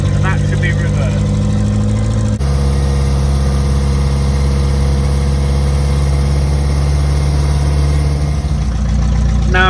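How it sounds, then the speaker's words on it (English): A 1951 Triumph Renown saloon engine runs warm with a badly blowing exhaust, a loud, close, steady idle with deep low rumble and a sharp rasp that jumps in level partway through as the engine note changes. "As you can hear, the exhaust is blowing terribly"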